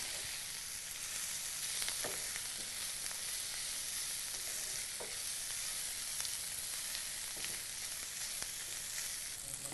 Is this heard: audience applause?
no